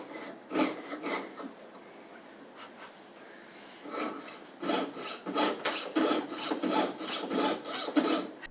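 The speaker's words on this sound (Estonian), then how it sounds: "Mööda kontuuri joont peab täpselt saagima, et kuskilt sisse ei sae." A jeweler's saw cuts a metal badge along a traced contour line, giving close, rhythmic rasping strokes that start in short bursts and then settle into a steady back-and-forth sawing.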